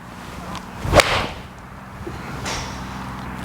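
A golf ball struck with a Callaway APEX TCB iron gives one sharp, crisp impact crack followed by a brief whoosh of ball flight, heard alone outdoors against faint background noise.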